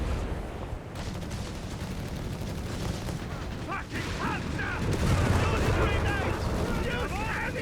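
Battlefield combat from Company of Heroes 3, with a Sherman tank bombarding German forces: a steady din of gunfire and heavy booming blasts that swells louder toward the end, running under continuous commentary.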